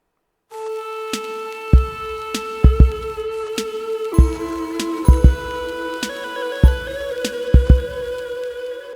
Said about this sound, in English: It's these kind of bell chimes that you hear.